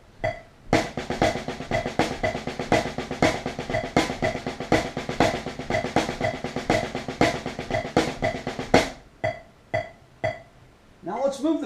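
Drum fill phrased with a paradiddle starting each phrase, played on a kit: a steady run of crisp, evenly spaced strokes with sharp cymbal and snare accents throughout, ending in a few sparser hits, loud and close with no talking.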